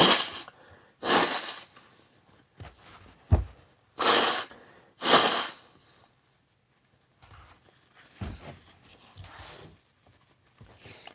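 A person blows their nose several times, with sharp forceful bursts of air that stand out loud and close against near silence, and softer sniffs and snorts in between.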